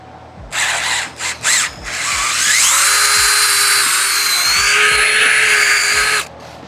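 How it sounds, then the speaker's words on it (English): A power drill fitted with a Forstner bit bores holes in the bottom of a wooden pocket door, starting with a few short bursts and then settling into one loud, sustained whine of several seconds before stopping. "Now that I have those holes drilled, I don't need this Forstner bit anymore."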